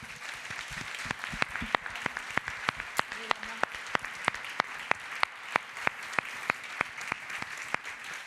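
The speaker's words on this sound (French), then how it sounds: "que vous l'applaudissiez chaleureusement" Warm audience applause rings out after a farewell tribute, dense steady clapping with sharp individual claps standing out, moderately close and continuing throughout.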